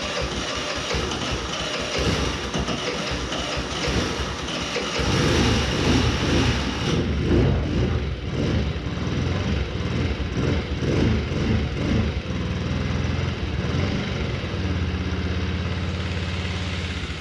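An abandoned quad ATV, left outdoors for a year, cranks and its small engine catches into a steady, rumbling idle that runs on loud and close without any voices.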